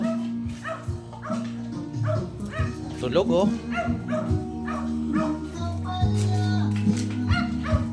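Two-month-old puppies bark and yip in short, high bursts throughout, with a person talking over them nearby.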